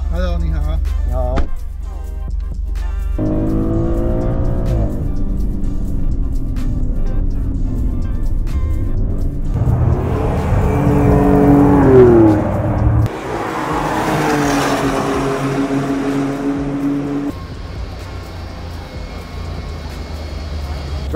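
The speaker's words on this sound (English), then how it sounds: "We're gonna experience the Grecale Trofeo around the track." Maserati Grecale Trofeo SUV driven hard on a race track during a performance track day: a loud engine roar that rises and falls through gear changes and revs, heard from nearby for the whole stretch, with voices talking over it.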